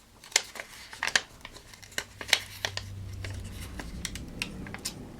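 Sticker being peeled slowly off a Happy Planner page, giving a series of faint, close crackling and crinkling ticks with brief sharp snaps, then a steadier soft rustle toward the end.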